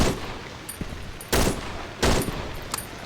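Gunfire in the horror video game Cry of Fear: two loud, sharp shots about 0.7 seconds apart, with fainter clicks and game ambience around them and no talking.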